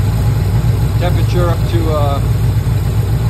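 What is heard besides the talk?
car engine idling with Holley 4160 carburetor, warmed up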